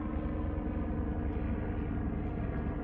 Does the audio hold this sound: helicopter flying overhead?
yes